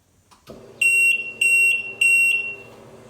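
Three sharp electronic beeps in a row from a Yamaha WaveRunner remote after holding the low RPM mode button, evenly spaced and loud, after a brief soft click.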